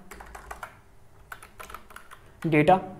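Typing JavaScript code on a computer keyboard: light, scattered key clicks in small clusters, close by, with a brief burst of voice near the end.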